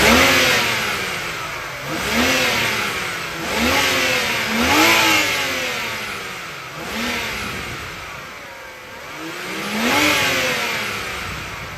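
A BMW 335i engine with its stock intake revs repeatedly in short bursts, pitch rising and falling about every second or two, loud and close, with no talking.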